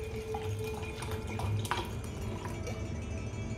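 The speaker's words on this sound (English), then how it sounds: "we add our amla water in it, as much as little as you like" Amla water is poured into a cucumber juice, a soft, faint trickle with a few light drips in a quiet kitchen.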